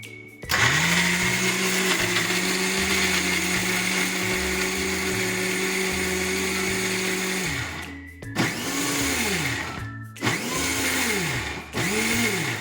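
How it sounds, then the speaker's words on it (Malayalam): A mixer grinder blends mango chutney in a loud, steady whir for about eight seconds, then stops and restarts in two shorter pulses, its pitch dipping and rising as the motor spins up. "ഇനി നമ്മൾ ഇതൊന്ന് അരച്ചെടുക്കണം"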